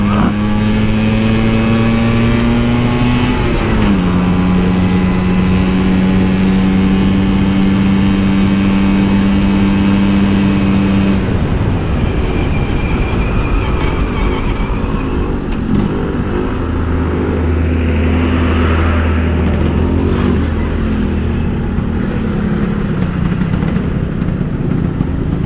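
A Vespa scooter engine with late fuel delivery revs and drones, its pitch climbing and dropping between steady holds, loud and close amid road traffic.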